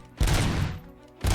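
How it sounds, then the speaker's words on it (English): Gunfire in the RoboCop: Rogue City video game, a loud burst of shots at the start that fades, followed by another burst near the end. "Just peppering them with gunfire."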